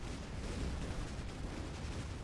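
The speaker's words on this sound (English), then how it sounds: "Let me show you a real fireworks show." Fireworks-style weapon explosions in the artillery video game Shellshock Live, heard as a dense, continuous barrage of rumbling booms and crackling bursts.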